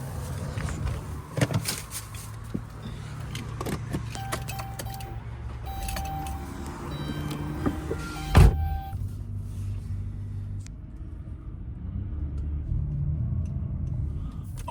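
A car is started, moved and parked, with a low engine rumble, faint clicks and a jangle of keys, a sharp thump partway through, then the engine idles on quietly.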